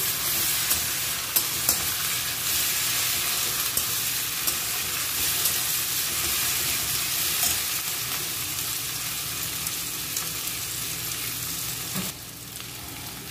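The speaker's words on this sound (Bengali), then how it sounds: "জিরে বাটা, ধনে বাটা, শুকনো লঙ্কা বাটা দিয়ে মশলাটা ভালো করে কষিয়ে নেব।" Ginger, cumin, coriander and dried red chilli pastes fry and are stirred for a mutton curry. A steady, loud sizzle runs throughout, broken by occasional scrapes, and it eases slightly near the end.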